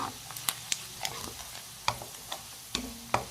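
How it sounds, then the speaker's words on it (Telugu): Mustard seeds with chana and urad dal splutter in hot oil while frying alu, giving sharp, irregular pops and crackles over a low sizzle, with several distinct loud bursts spaced through the clip. "చూడండి, చెడుపటలాడుతూ ఉన్నాయి, ఎగురుతూ ఉన్నాయి ఆవాలు అనేవి."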